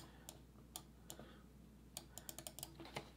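Fingers type on a computer keyboard, giving a few scattered faint clicks and then a quick run of keystrokes over a quiet room hum.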